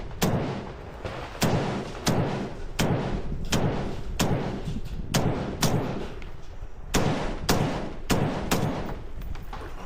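Rifle fire on the first stage of a two-gun match at an outdoor range: a dozen or so sharp, loud shots in a steady, fairly even rhythm, close by and with no talk.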